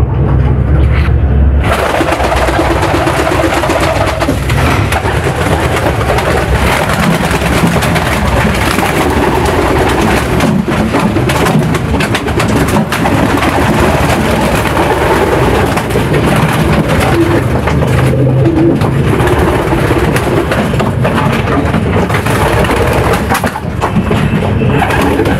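Young homing pigeon squabs cooing in a loft, a continuous dense murmur of low coos and rustling that stays loud and steady throughout.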